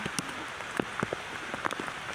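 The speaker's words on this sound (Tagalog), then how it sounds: "Kahit pa ulan yan." Steady rain patters on a surface nearby, with scattered louder drops tapping irregularly through the hiss.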